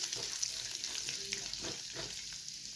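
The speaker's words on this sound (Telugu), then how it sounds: "ఇప్పుడు ఆవాలు, జీలకర్ర, శనగపప్పు ఇవి పోపు వేసుకుంటున్నాను" Mustard seeds, cumin and chana dal crackle and sizzle in about two spoons of hot oil in a kadai while tempering, a steady close frying hiss with small pops throughout.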